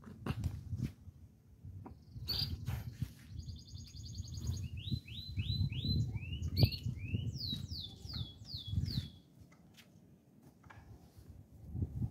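A caged songbird chirps in repeated quick whistled phrases and rising trills, fairly close and clear over a low background rumble and some scattered taps across about twelve seconds.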